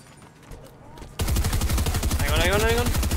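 Suppressed sniper rifle and other gunfire in a Fortnite match, starting after a quiet moment with a sudden loud rapid burst of shots that continues steadily, with a rising synthetic tone layered over the firing.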